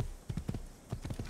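A horse's hooves clip-clop at a steady riding gait in Assassin's Creed, a few muffled, close hoofbeats in quick pairs over a soft ambient hiss.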